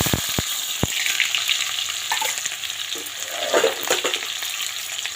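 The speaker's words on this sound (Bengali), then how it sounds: "এই দেখো তেজপাতা আর গোটা জিরে ফোড়ন দিয়ে দিলাম। আর এখন এখানে দিয়ে দেবো পেঁয়াজ কুচি।" Chopped onion fries in hot oil over a bay leaf and whole cumin tempering, a close, steady sizzle broken by repeated spatula stirs and scrapes against the pan, with no voices.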